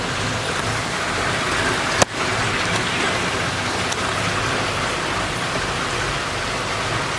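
Heavy rain pours onto a rooftop in a steady dense roar close at hand, with one sharp knock and a fainter thump partway through.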